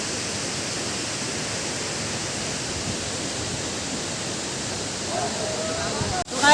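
Gunjiwada Waterfall in Andhra Pradesh, a broad steady roar of falling water close by that holds without a break, with a brief rustle and knock near the end.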